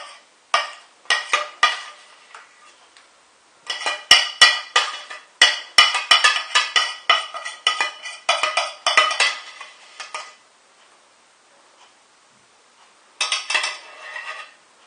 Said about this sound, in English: Spoon this into the curry.